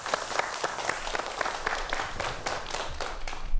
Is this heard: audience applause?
yes